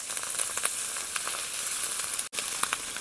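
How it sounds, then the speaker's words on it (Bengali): Onion and ginger paste fries in a pan with a steady close sizzle, a broad bright crackle that holds evenly throughout and breaks off for a moment near the end. "এর উপরে 1 চামচ আদা বাটা দিয়ে দেব, দিয়ে ভালো করে কষিয়ে নেব।"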